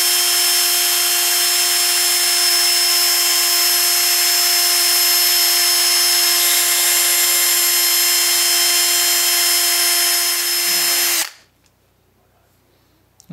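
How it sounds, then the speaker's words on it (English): A power drill spins a small rusty guitar screw against scraps of 400-grit sandpaper, making a loud, steady high whine that runs unbroken for about eleven seconds before it winds down and stops. "I just chucked up the little screw in my drill. I keep a little bin of old sandpaper bits around here."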